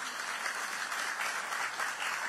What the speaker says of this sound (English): Can y'all give the Lord a hand clap of praise right there?